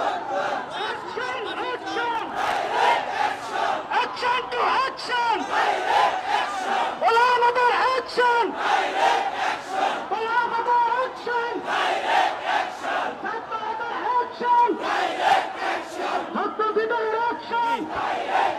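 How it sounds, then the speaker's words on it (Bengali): A protest march crowd chants slogans in loud, rhythmic bursts of massed voices, the call-and-response shouts pulsing steadily and close throughout. "তারা সাত অনুসারীদের বিরুদ্ধে তারা বিভিন্ন নামে স্লোগান দিচ্ছে।"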